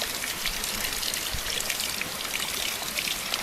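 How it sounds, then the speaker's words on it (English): Clear water pours and trickles steadily over a flat stone as it is cleaned, a close, continuous splashing wash that holds at an even level throughout. "Let's clean it. What we need is only clear water."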